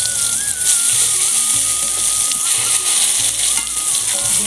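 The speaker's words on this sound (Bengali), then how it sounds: "আর কটাও বেগুন ভেজে নিচ্ছি।" Eggplant slices frying in hot oil sizzle loudly and steadily, with a dense broadband hiss and occasional low scraping from stirring or turning, and no voices.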